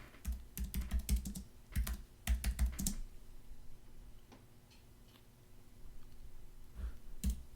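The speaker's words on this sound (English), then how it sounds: "I'm going to type in common stock." Fingers tapping on a computer keyboard nearby, short bursts of quick, quiet keystrokes separated by a pause with a few isolated clicks.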